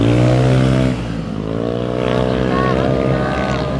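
A Yamaha Aerox scooter on a mountain road gives a loud, close, droning engine whose pitch dips and climbs again as it passes, with voices talking over it.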